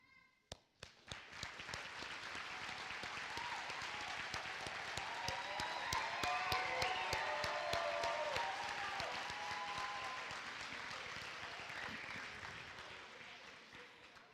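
Graduating students at the Renaissance High School 2017 ceremony give sustained applause from a large crowd, rising after a few sharp opening claps, holding steady, then gradually tapering off.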